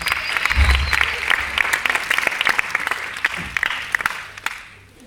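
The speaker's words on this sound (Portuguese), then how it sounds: "Uma salva de palmas para nós." A crowd of Mozambicans breaks into loud, ragged hand clapping, with individual claps standing out close by as the applause thins and fades away over a few seconds.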